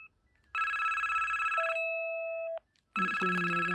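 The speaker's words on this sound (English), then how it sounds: "it's ringing the other handset" A Philips DECT 511 cordless phone handset rings with a bright electronic warble in two bursts separated by a short gap, loud and close, with a lower steady tone joining partway through the first burst.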